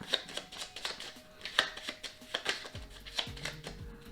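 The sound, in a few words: shuffling a deck of cards for board game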